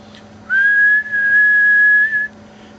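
A single steady whistle into a radio microphone holds one pitch for nearly two seconds with a tiny break, loud and close over a faint electrical hum, while an HF power meter is tested.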